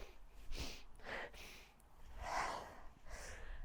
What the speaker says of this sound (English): Apologies for my slight little sniffle that I've got